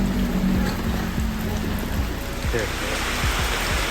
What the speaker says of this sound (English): Hiding in the rain.